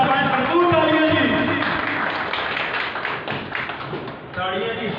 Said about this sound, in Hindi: भरपूर तालियां जी